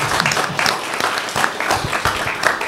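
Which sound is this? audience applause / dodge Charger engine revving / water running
audience applause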